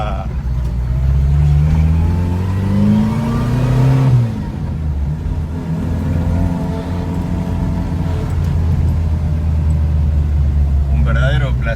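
A Ford Escort RS2000 rally car's engine revs and pulls loudly from inside the cabin while driving, rising and falling through gears with a deep rumble, as someone talks over it.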